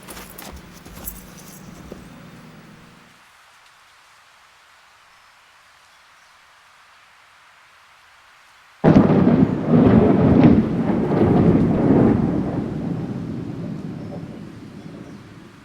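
Thunder from a lightning strike, a sudden loud crack after several seconds of near silence, followed by a long rumbling roll that stays loud.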